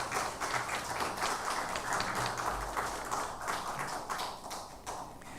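Church congregation applauding the choir after a hymn at a Sunday worship service, a steady dense wash of clapping that holds at an even level for several seconds with no talk over it.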